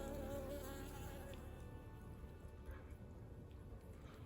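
Honeybees hum at the Buckeye hive entrance, a steady low buzz near the box, with a few individual bees passing close with slightly louder drones, no voices.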